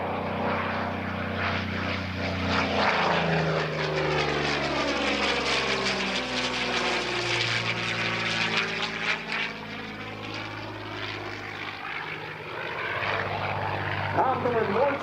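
A P-40N Warhawk fighter with an Allison engine passes overhead at an airshow, a loud propeller drone rising and falling with a strong pitch sweep as it flies by, while an announcer talks over it.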